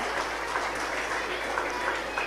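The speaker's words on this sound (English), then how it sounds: "A big round of applause for Dr. Prasenjit and Dr. Momita." Dense, continuous clapping from a crowd, loud and steady throughout, with some voices mixed in.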